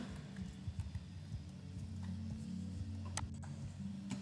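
Horse hooves clip-clop in a steady walking rhythm over a low droning background in the video game Star Stable, with a few sharp clicks near the end.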